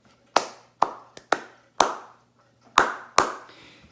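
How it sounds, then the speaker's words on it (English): Students in a classroom clap back a short rhythmic pattern, seven crisp hand claps in uneven groups, close and distinct, with quiet gaps and no talking. "Eugene clapped back"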